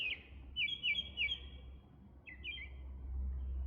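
Birds chirp in short repeated bursts, a quick cluster early and another pair later, over a low steady background rumble.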